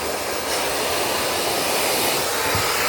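A pet hair dryer blows a steady, loud rush of air while a miniature poodle is groomed, the broadband hiss continuous throughout with a faint low rumble underneath.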